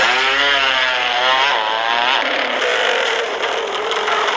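Racing motorcycle engine in a video game, a loud, close, high-pitched whining rev that rises and wavers steadily for several seconds.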